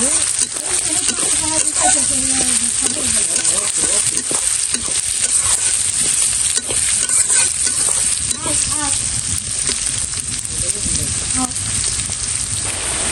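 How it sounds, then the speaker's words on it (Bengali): Onions frying in oil in a home kitchen give a loud, continuous sizzle, with frequent clinks and scrapes of a spoon stirring against the pan throughout. "ভালো করে ভাজা ভাজা করে নেব"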